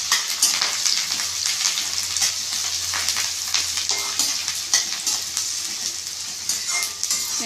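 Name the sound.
onions sautéing in a pan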